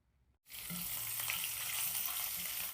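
Cumin seeds, slit green chillies and curry leaves hit hot cooking oil and burst into a steady, close sizzle that continues evenly, after a brief quiet moment at the start.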